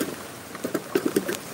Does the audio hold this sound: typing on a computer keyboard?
no